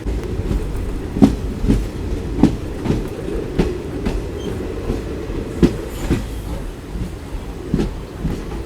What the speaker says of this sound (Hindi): यहाँ पर देखो लूप पर जा रही है गाड़ी